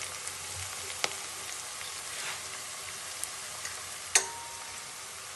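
Green chilies cut lengthwise sizzle in a pan of Rajasthani kaddu kadhi, giving a steady, soft frying hiss with a couple of sharp pops and spatters, close and fairly quiet, with no talking.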